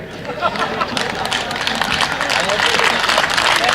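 An audience at a Haryanvi comic poetry recital gives a dense, steady round of clapping that carries through the whole moment, with crowd murmur mixed in.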